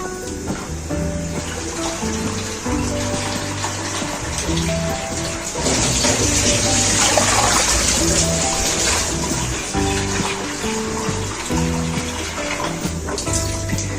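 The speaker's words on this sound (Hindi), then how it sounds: "अब यहाँ पे कढ़ाई ले लिया मैंने, और यहाँ पे हम डालेंगे पानी" Water pours steadily into a kadhai to boil rice for mutanjan, a continuous loud rushing splash that swells midway and carries on without talk.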